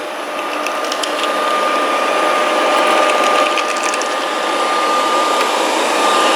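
A Proscenic 790T robot vacuum runs steadily over household cables, its motor holding a continuous whine while a gritty, ratcheting clatter of brushes snagging on wire carries throughout at close range.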